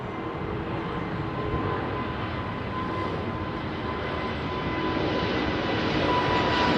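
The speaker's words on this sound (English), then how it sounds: "This is Finnair's A350. Look at that. Listen to these beautiful engines." Finnair Airbus A350 jet engines roaring through takeoff at London Heathrow, a broad sustained rumbling thrust with a faint tonal whine that grows slightly louder toward the end.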